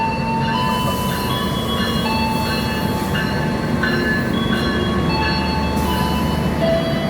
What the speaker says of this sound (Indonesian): kereta api Sembrani tiba di jalur 4 stasiun Gambir